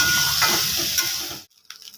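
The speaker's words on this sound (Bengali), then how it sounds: "দেখো ভাত, ডিম, পেঁয়াজ, কাঁচা লঙ্কা এইসব দিয়ে এটাকে ফ্রাই করছি" Fried rice with egg, onion and green chilli sizzling and being stirred in a pan, a loud steady frying hiss with scraping stirs that cuts off abruptly near the end, leaving faint clinks.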